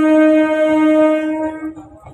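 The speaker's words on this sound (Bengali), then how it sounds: "এই দেখুন ট্রেন আসতেছে এপার দিয়ে" A train approaching from Digha gives a loud, sustained tonal blast lasting under two seconds, close by, then fades into low rumbling.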